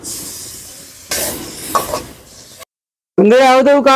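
A spice paste of turmeric and chili frying in oil hisses and sizzles up close for a couple of seconds, breaks off into brief silence, then a voice comes in.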